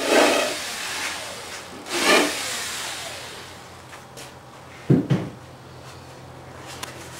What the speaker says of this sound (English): Now we're going to countersink the whole side with the countersink